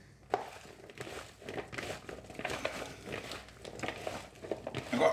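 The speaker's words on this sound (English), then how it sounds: "I'm going to give them a mix" Fish roe being stirred with a little oil in a bowl: soft, wet, irregular squelching and light patter, faint and close, with a few sharper clicks.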